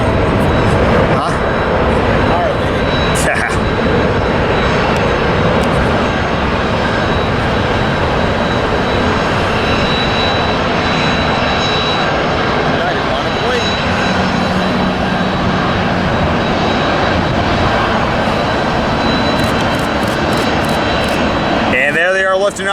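A jet airliner taking off on a long flight to Japan, a loud sustained engine roar close by that holds strong throughout, with voices talking over it.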